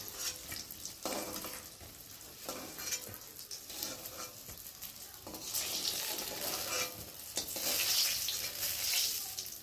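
Rohu fish sizzles in hot oil in a wok, a bright crackling hiss that swells and fades while a utensil scrapes and stirs, with occasional clinks close by.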